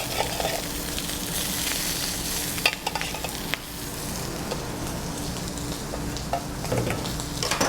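Shrimp frying for restaurant-style shrimp scampi give a steady, loud sizzle across the whole stretch, with a few sharp clinks of pan or utensil standing out now and then.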